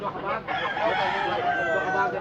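A rooster crows loudly and close among chickens offered for sale, one drawn-out call rising and holding over a backdrop of clucking fowl.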